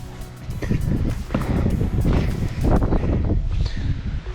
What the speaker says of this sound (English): hopefully the audio quality isn't affected too much by this wind